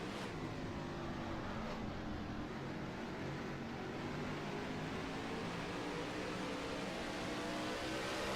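Race car engine roaring steadily in a sim racing league game, loud and continuous with a rising pitch sweep as a car passes close by, no voices.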